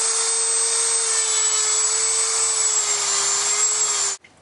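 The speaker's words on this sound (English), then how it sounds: "So we're going to grind all this off." A rotary tool grinds steadily away at the acrylic teeth of a model Raging Hulk figure, a loud, continuous high-pitched whine held for about four seconds before it cuts off abruptly.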